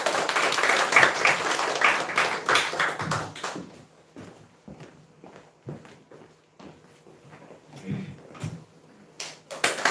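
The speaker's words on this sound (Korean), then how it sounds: "우리 박수로 환영하겠습니다." A church congregation claps in welcome, a brief burst of applause in the first few seconds that fades out, followed by scattered footsteps and light taps in a quiet room.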